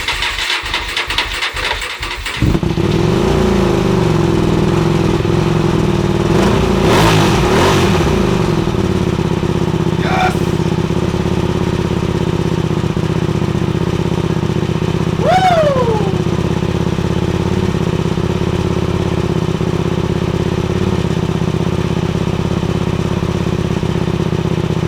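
Motorcycle cranked with a few quick starter clatters, then catching and settling into a steady loud idle close by, with a couple of brief throttle blips and a short squeak partway through.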